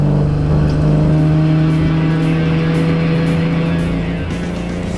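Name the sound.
car driving out onto a race track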